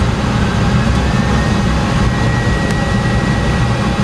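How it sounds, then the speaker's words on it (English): Jet engines on an airliner roar at takeoff thrust on the runway, a loud, steady, heavy drone that fills the whole stretch without a break. "Both engines are running full power."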